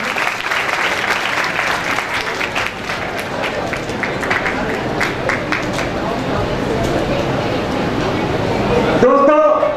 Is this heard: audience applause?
yes